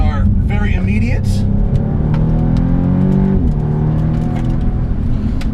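A 2015 Audi S3 accelerating hard through its gears, the engine drone climbing in pitch, dipping at a quick shift, then rising again, heard from inside the cabin with someone talking over it.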